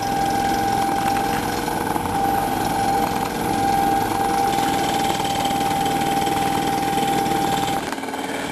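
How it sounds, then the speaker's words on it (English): The engine of a Bloop motorfloater, a small powered aircraft, warms up on a runway with a loud, steady droning hum and a constant whine that runs unbroken, then cuts off abruptly near the end. "The engine continues its warm-up while I position the plane on the runway."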